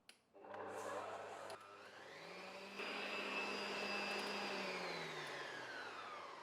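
An electric mixer whirs at medium-high speed while creaming butter and brown sugar for banana bread, starting up with a sharp rise and then holding a loud, steady motor whine that shifts pitch slightly as it runs.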